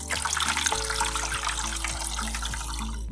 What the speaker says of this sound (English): I'm going to place the module into the planter and then just add water.